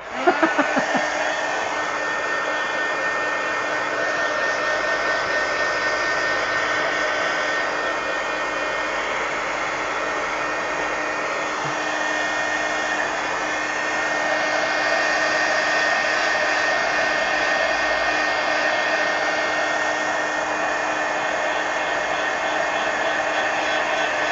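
A hair dryer blows steadily to dry acrylic ink spots in an art journal, a loud, constant whooshing roar held close for the whole stretch with no pauses.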